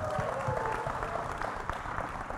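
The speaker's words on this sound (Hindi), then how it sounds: "जोरदार तालियां हो जाए।" Audience claps at a film trailer launch event for Haseena Parkar, with scattered hands over a murmuring crowd and room noise, moderate and fairly close, with faint voices underneath.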